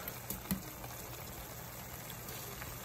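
A pot of eggs, noodles and sausage simmers on the stove in a steady, soft bubbling hiss, quiet and continuous, with a couple of faint pops near the start and no talking.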